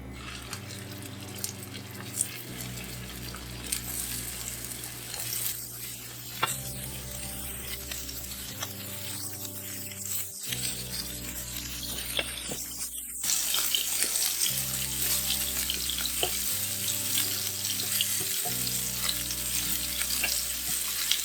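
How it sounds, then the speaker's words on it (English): Meatballs sizzle steadily in hot olive oil in a pan, with occasional stirring clatter and a low hum running underneath. "Now I have to fry them. I'm using olive oil"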